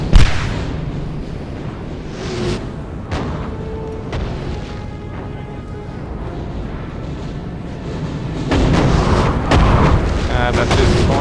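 Cannon artillery fire in the Napoleon: Total War video game, with booming shots and rumbling battle noise throughout, a sharp blast near the start, scattered reports in between, and a heavier, louder barrage of explosions building over the last few seconds.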